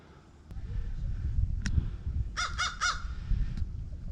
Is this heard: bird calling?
yes